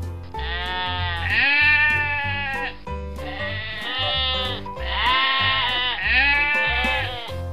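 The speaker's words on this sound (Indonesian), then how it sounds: "Wah, ini domba putih" A white sheep bleats repeatedly, three or four long wavering cries close by, set over a synthetic beat or music underneath.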